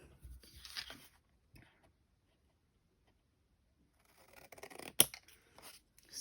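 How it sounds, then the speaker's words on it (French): Scissors snip through paper Christmas gift tags, a few soft cuts near the start and a sharper crisp snip later, with quiet pauses between. "maintenant il n'y a plus qu'à découper"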